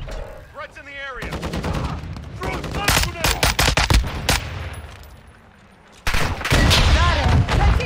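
Rapid bursts of automatic gunfire in a multiplayer shooter game, loud and close, with dense volleys of shots and a short lull before another heavy burst, mixed with game voice callouts.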